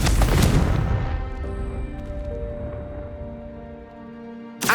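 A Confringo blasting spell in Hogwarts Legacy, one loud explosive boom at the start that decays into a long ringing tail, then a short burst returns at the very end.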